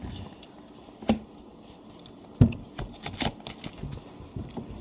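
Tarot cards are shuffled up close in a few bursts of rapid flutter and snaps, with soft handling sounds in between.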